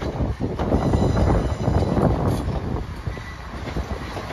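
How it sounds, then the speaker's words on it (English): A West Midlands Railway Class 170 diesel unit from Birmingham New Street rolls into Shrewsbury station, a loud, close rumble of engine and wheels that eases slightly toward the end. "here comes a West Midlands Railway service terminated here from Birmingham New Street"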